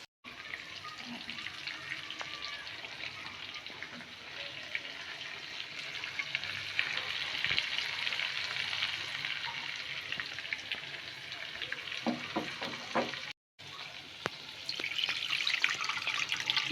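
Hilsa fish fry in hot oil with onions for mustard hilsa, a steady bright sizzle that swells midway, with a few clinks and a brief break near the end.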